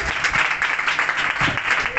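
Worshippers at a church youth meeting clap together in a steady, fairly loud round of applause, with a few voices faintly audible beneath the clapping.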